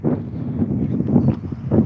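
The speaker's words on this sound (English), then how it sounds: "It's hella windy over here." Strong outdoor wind buffets the microphone in a steady, low rumbling roar that gusts slightly throughout, with no clear voices.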